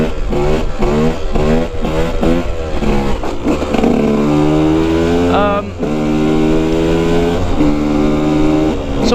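A KTM EXC 125 two-stroke dirt bike engine revs hard during a wheelie, with a loud, close series of rising and falling revs as gears shift, then a long sustained high-rpm pull, buzzing steadily with wind noise.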